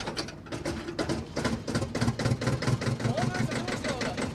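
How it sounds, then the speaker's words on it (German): A freshly resealed and rebuilt 1948 Steyr 180 tractor engine runs with a steady, rhythmic low chugging pulse, moderately close, while a person talks over it. "Das ist mein Steyr 180. Baujahr 1948."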